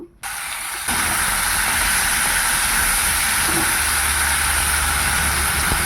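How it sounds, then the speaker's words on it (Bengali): Fish oil frying in a pan with potatoes, onion and green chili, a steady loud sizzling hiss that runs unbroken from start to finish with no talk. "আলু পেঁয়াজ কাঁচা লঙ্কা দিয়ে মাছের তেল ভাজা হচ্ছে"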